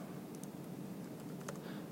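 Typing on a laptop keyboard during a JavaScript coding session: a quiet, steady patter of soft key clicks with a few sharper taps, close by with no talk over it.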